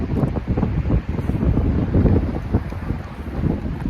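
Strong wind buffets the microphone outdoors, a constant loud roar and rumble with gusting surges and no speech.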